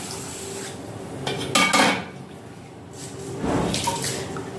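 Broken rice being washed with water in a pot, with clattering metal and sloshing water in a few bursts, near and moderately loud, with no voices.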